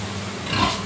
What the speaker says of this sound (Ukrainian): Перегулює знову наша свинка, яка знаходиться в першій клітці.